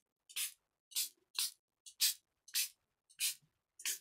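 A small spritzer bottle sprays ink onto an art journal page. Seven crisp, hissing pumps come at a fairly steady rhythm, close by and quiet, with silence between them and no talking.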